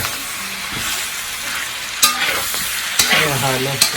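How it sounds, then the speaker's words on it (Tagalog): Ilokano-style dinuguan sautéing in a pan, a close, continuous sizzle with bright scraping strokes of a utensil stirring every second or so. "Igisa natin ng konti para"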